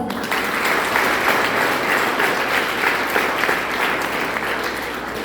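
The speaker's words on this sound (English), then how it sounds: "Let us welcome him with a big round of applause" A school audience gives a big round of applause welcoming a guest lecturer to a high school hall, dense and loud clapping from many hands held at an even level throughout.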